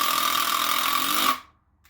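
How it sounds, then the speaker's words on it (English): A cordless impact driver sinks a screw into masonry in a loud, continuous burst of rapid hammering whir lasting over a second, then cuts off abruptly into near silence. "What this does is applies impact to the rotational motion, and it really makes driving screws easy."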